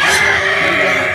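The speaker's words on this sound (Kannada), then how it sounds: "ನೋಡಿ, ಇದು ಕಪ್ಪು ಬಣ್ಣದ ಕೋಳಿ." A black chicken at a farm house clucks loudly and close, a short dense burst of throaty calling with no talk.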